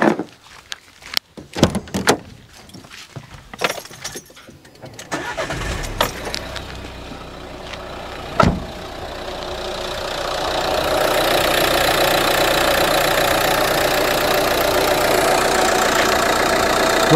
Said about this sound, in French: Voilà, je vais aller démarrer le moteur.